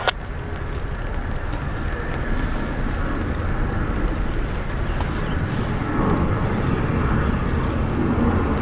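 An airplane lands on runway 28 left at Dublin Airport, giving a continuous loud, rumbling jet roar with wind noise that holds steady throughout, with no voices.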